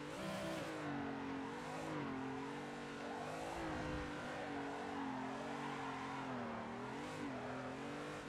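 A car engine drifting in a racing video game, its sustained revving drone wavering up and down in pitch throughout, heard steady and alone.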